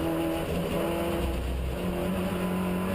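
Onboard an MG race car, Robin Walker's number 77 machine in the 2017 MG Trophy Championship at Donington Park, the engine roars in a loud, steady drone at sustained high revs with no voices.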